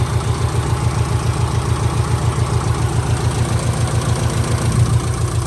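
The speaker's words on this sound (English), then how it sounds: "you can hear the fan cycling" A 2004 Subaru Impreza 2.5RS with a new timing belt idles steadily up close, a low rhythmic engine throb under a constant broadband whir from the cooling fan, with no talking.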